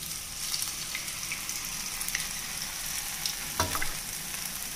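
Medu vada made from urad dal bubble and sizzle in hot oil over a medium flame, five at a time, giving a steady close hiss with occasional brief clinks and splashes.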